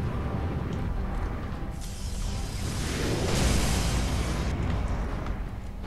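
A deep, booming cannon blast in an Iron Man video game swells over a steady rumbling roar, loud and sustained, with a whooshing rush layered on top.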